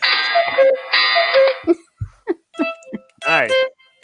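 A cuckoo clock's chiming calls ring out at the start, with talk following and a voice mimicking the sound afterward.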